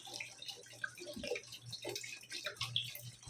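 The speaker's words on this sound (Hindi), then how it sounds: "ये देखो पूरा 1 लीटर पानी डाल दिए" Water being poured into a pot of rice and lentils during cooking, giving a steady splashing, gurgling pour with bright trickles and a low kitchen hum underneath.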